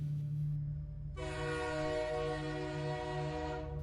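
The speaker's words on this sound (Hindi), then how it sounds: "पहले ट्रेन का हॉर्न और फिर कुछ ही पलों में ट्रेन प्लेटफॉर्म पर आकर रुकी।" A steady low rumble of a train pulling into a station platform, then a long sustained horn blast starts and holds, loud and unbroken.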